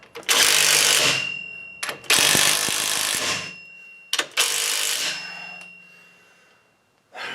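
A ratchet tightens bolts on the front differential of a 2004 GMC Denali all-wheel drive, heard as three long, loud, rasping bursts of rapid clicking, each separated by brief metallic knocks, the last one trailing off.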